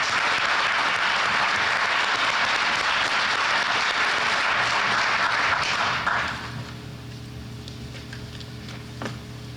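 Audience applause welcoming the candidates at a Chicago mayoral candidates forum: dense, steady clapping that fills the room for about six seconds, then drops off abruptly to a quiet hum with a few scattered sounds.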